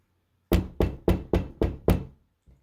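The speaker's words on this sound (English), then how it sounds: "there was a knock at the door" Six firm knocks on a wooden door in an even sequence, each sharp and close, followed by a faint seventh tap after a short pause.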